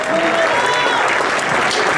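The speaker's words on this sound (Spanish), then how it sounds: "este gran aplauso es para todos ustedes" Loud, dense applause from an audience at a charity raffle event held in a municipal space, continuous and steady with voices mixed into the crowd.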